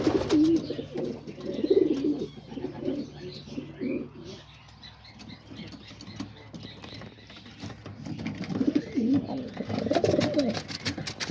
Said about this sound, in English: we just like looking at the pigeons and watching them grow up